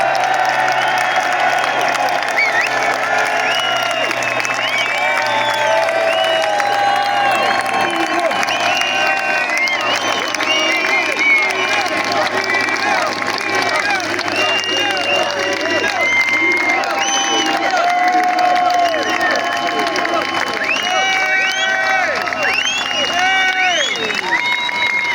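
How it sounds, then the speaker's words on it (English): Large outdoor crowd at a London Unite the Kingdom rally roaring, cheering and applauding in a sustained, dense wall of noise, with whistles and scattered shouts rising over steady clapping. "I want the loudest roars and a round of applause to Elon Musk."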